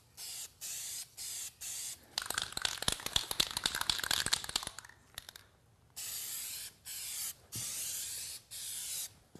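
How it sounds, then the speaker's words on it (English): Short bursts from a DupliColor spray paint can, several quick hissing puffs followed by a longer crackling spray, then more evenly spaced bursts, close and clear. "And also give a test spray."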